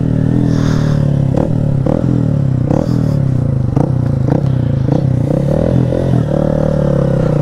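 Honda CG160 Titan motorcycle with a full stainless steel Atalla exhaust, a loud continuous engine drone under repeated sharp revs and blips, riding close with no voices.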